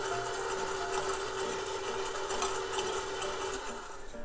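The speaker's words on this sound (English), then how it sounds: "just let my mixer do its thing for a second" An electric mixer runs steadily through pecan pie filling with melted butter, giving a constant high motor whine with a buzzy texture, fairly quiet and uninterrupted.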